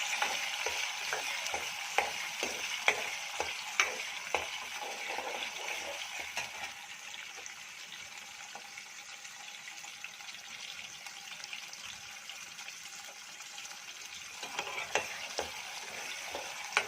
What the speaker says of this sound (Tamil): இது பொரிஞ்ச பிறகு சின்ன வெங்காயம், பூண்டு இதை ஆட் பண்ணிக்கோங்க.